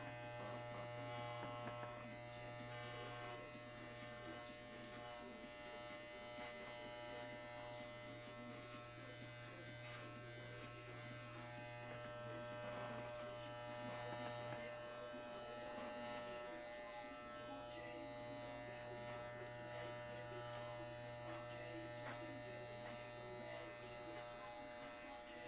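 Electric clippers shave down fursuit fur on a bunny costume with a continuous low buzzing hum that holds steady throughout, close by and fairly quiet.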